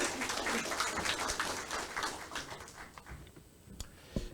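Applause at a public hearing on a northern Gyeonggi special self-governing province in Yangju, clapping that is busy at first and then thins into scattered claps, fairly quiet overall.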